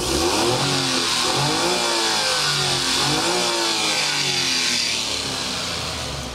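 A mini van's engine runs close by, revving up and down in repeated smooth surges with a steady mechanical hum throughout.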